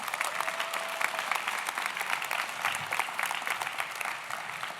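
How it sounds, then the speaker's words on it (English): A commencement crowd for the Class of 2022 gives a sustained round of applause for retiring Professor Brian Spinks, who is absent, with dense, even clapping filling the hall. "I hope that you will give him a round of applause in absentia"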